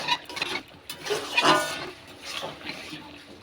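A spoon stirs paneer with a little ghee in a pan, giving soft, brief scraping and sizzling swishes in a few uneven bursts, close and fairly quiet.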